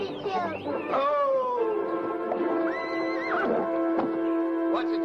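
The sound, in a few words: horse neighing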